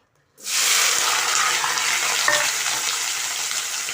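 Chopped vegetables hit hot oil in a pan with a sudden loud sizzle that starts after a brief silence and stays steady, fading only slightly.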